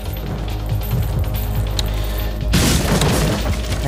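A heat grenade goes off in Resident Evil 4 Separate Ways: a sudden loud, broad blast about two and a half seconds in, breaking over ongoing game music and rumble.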